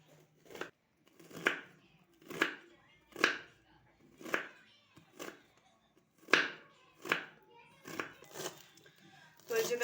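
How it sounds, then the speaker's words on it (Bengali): A knife slices cabbage thinly on a board, making a close, regular series of about a dozen crisp chopping strikes that are spaced evenly. "এখানে বাঁধাকপিটাও কেটে নেব একদম পাতলা পাতলা করে।"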